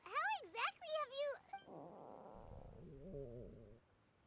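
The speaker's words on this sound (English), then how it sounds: "That would be my stomach growling." A long, low gurgling stomach growl from a character in the video game Genshin Impact, rumbling steadily for a couple of seconds right after a burst of animated character voices.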